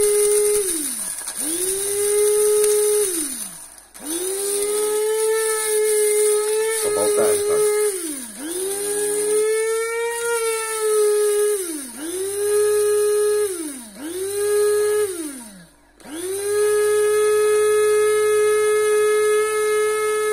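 A Vitek VT-7123 ST electric coffee grinder grinding coffee beans, its loud, close motor whine running in repeated bursts that rise quickly and sag away between presses, with brief gaps between each burst.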